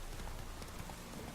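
Horse hooves clip-clopping at a steady trot in The Witcher 3, a faint, even patter of hoofbeats under a low wash of ambient noise, with no speech.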